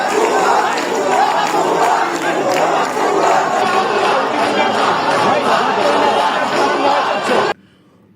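Protesting students crowded near the Milestone building after the Uttara plane crash chant slogans in unison, a loud, continuous roar of many voices that cuts off abruptly near the end.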